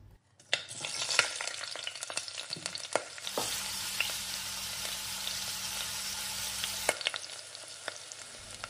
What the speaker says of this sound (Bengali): তেলটা গরম হওয়ার পর এক এক করে চিকেনের টুকরোগুলো এর মধ্যে আমি দিয়ে দিচ্ছি।